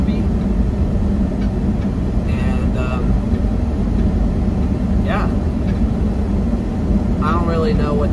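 A car being driven gives a steady, loud interior rumble of engine and road noise throughout, with a few faint, brief tonal sounds rising over it.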